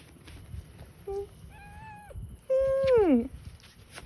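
An outdoor cat gives a short meow followed by two longer, drawn-out wailing meows, the last loud and falling in pitch, over quiet background noise.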